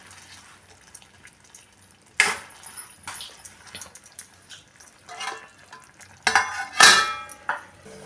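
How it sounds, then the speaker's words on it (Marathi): A spoon stirs crushed sesame seeds in a metal cooking pot, giving intermittent scrapes and clinks against the pot, with a few sharper metallic knocks toward the end and no talking. "हे दोन चमचे कुटलेले तीळ हे आता एकसारखं हलवून घेऊया"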